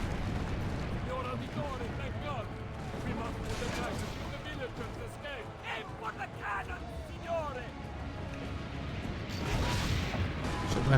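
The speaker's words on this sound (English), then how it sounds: "cannon, cannon, cannon, cannon" Cannon fire in the video game Assassin's Creed Brotherhood: a dense, rumbling barrage of heavy blasts over a constant roar of game noise, swelling louder toward the end.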